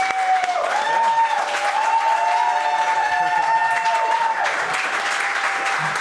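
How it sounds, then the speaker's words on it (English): A steady round of audience applause at a downtown podcast taping with a live crowd, dense clapping with light cheering under a sustained musical tone throughout. "give her a big round of applause"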